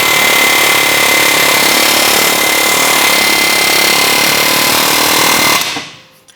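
Air chisel hammering to separate a wheel bearing from the backing plate on a Toyota Sienna, a loud, continuous rapid pneumatic rattle close by that cuts off sharply near the end.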